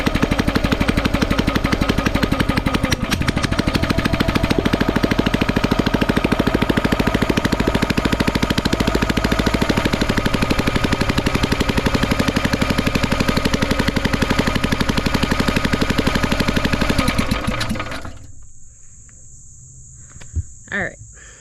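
The engine on a YardMax 35 ton half beam log splitter, which has been giving trouble, catches after choking. It runs with a loud, rapid, rattling chug for about eighteen seconds, then cuts off into near quiet with a couple of faint knocks.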